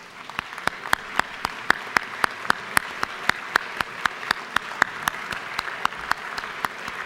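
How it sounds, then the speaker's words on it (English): Applause in a state House legislative chamber, heard as a steady, evenly spaced train of loud sharp claps, close and prominent, over a faint room background. "If you would give them a round of applause"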